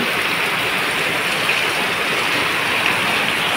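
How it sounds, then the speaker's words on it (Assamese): Heavy, torrential rain pours steadily in Guwahati, a dense, unbroken hiss of falling water with no pauses and no wind gusts. "বৰষুণ কিন্তু বহুত বেছি ধাৰাসাৰ বৰষুণ পৰি আছে"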